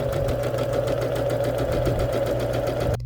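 A sewing machine runs steadily as fabric is held and fed through it, a close, continuous mechanical whir with a fast rhythmic stitching pulse that cuts off abruptly at the end.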